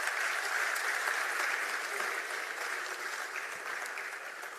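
An audience at a retail industry congress gives a steady, sustained round of applause to a CEO after his talk. The clapping is heard from a distance and is fairly soft, with no voices over it, tapering slightly toward the end.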